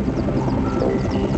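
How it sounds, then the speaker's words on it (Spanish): Helicopters flying over Chernobyl make a steady, low rumbling drone with a rapid rotor chop, continuous and fairly loud, with no voices over it. "Desde el cielo, los helicópteros arrojan toneladas de un líquido pegajoso"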